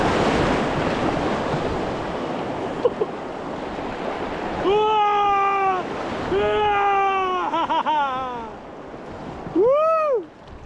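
Water from the river Maas rushes steadily over a small waterfall in a broad, close roar. Voices call out over the flow in bursts.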